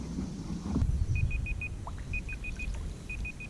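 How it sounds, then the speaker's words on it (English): Electronic timer beeps in quick bursts of four evenly spaced high tones, repeated three times over a low boat or engine rumble outdoors during a lakeside pike fishing challenge. "That is the timer."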